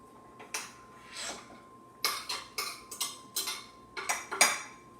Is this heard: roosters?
no